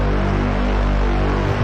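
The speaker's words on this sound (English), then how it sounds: "I do have a grunge bass layered over the sub bass when the buildup comes in" A grungy synth bass is layered over a deep sub bass in a melodic dubstep buildup, a thick sustained distorted tone that holds steady without a beat.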